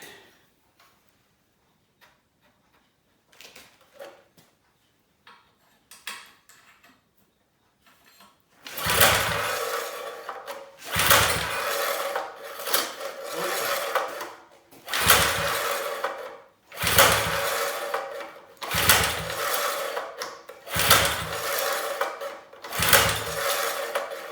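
Someone tries to start the Briggs & Stratton engine on a Norlett rotovator cultivator. After some quiet handling clicks, about seven loud recoil pull-starts follow in regular bursts, each cranking without the engine catching.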